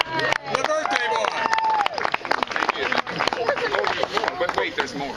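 Crowd at a 60th birthday party cheering and clapping for the birthday boy, a dense burst of applause with whoops and chatter that fills the room and carries on throughout.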